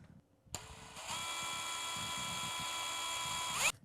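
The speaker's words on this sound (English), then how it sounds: "So I'm going to take my drill." A small power drill whirs steadily for a few seconds, opening a hole wider in a plastic Easter egg for a Dollar Tree craft, with a click as it starts and a brief rise before it stops.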